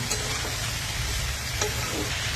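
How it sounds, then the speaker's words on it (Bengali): Vegetables sizzle and fry in a pan while being stirred, a soft continuous hiss with a few brief scraping clinks, fairly quiet and close, with no talking. "দিয়ে দেওয়ার পর নাড়াচ্ছি"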